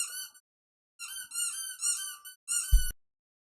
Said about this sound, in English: dog squeaky toy